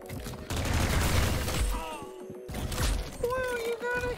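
Gunfire in a Roblox shooter game: a continuous burst of rapid shots, followed by a short gap and then more firing, with game sound effects and chimes near the end.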